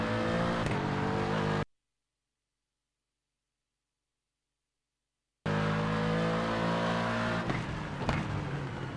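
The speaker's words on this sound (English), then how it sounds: "the downshifts and like the off throttle of the Aston sounds like out of the car sounds just like real life" Aston Martin engine in a racing video game, loud revving with downshifts and off-throttle burble, cut by a sudden stretch of complete silence before the engine noise returns just as loud.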